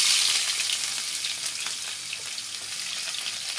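Two medium onions dropped into five tablespoons of hot oil in a pot for maash dal, a bright, hissing sizzle that starts strongest and settles into a steady crackle, close up with no voices.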